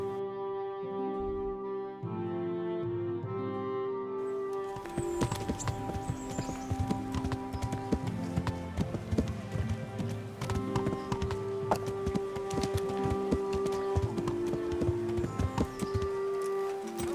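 Rhythmic horse hoof clip-clops trot steadily beneath sustained background music in the video game Kingdom Come: Deliverance, the hoofbeats close and continuous.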